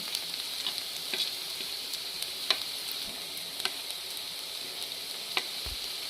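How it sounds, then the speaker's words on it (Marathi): Okra and potato masala with salt, turmeric, red chilli and cumin powder sizzles steadily in a pan over a high gas flame, uncovered, with a constant frying hiss and a few light ticks from stirring. "आता हे सर्व व्यवस्थित मिक्स करून घेते आणि झाकण न ठेवता भेंडी अशीच फास्ट गॅसवरती होऊ देते"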